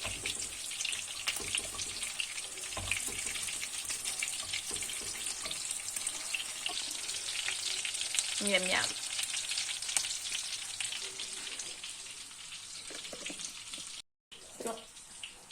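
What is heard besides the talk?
chicken nuggets frying in boiling oil in a pan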